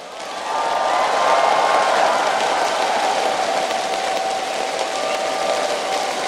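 A large esports crowd roars at a League of Legends world final, a loud, sustained wall of cheering and clapping that swells early and stays dense throughout.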